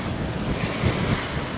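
Wind and rough, churned-up sea during a sailing passage at the Toau pass in French Polynesia, a loud, steady roar of gusting wind and breaking waves buffeting the microphone, with no voices.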